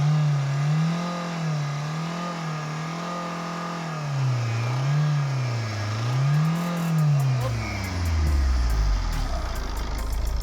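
A used Tata Indica Vista car engine is revved several times, its pitch rising and falling in a steady rhythm. Near the end comes a harder, louder rev, heard up close.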